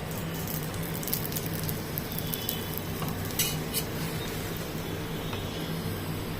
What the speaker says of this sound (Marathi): आता मागच्या बाजूने पण असाच भाजून घ्यायचा व्यवस्थित.